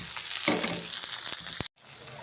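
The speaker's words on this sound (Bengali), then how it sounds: "মাছ ভোনার জন্য পেস্ট দিয়ে দিলাম মাছ ভোনার টমেটোটু দিয়ে দিলাম" Fish frying in a pan with spice paste and tomato, a loud steady sizzle with crackles, cut by a brief silent gap near the end before the sizzle resumes.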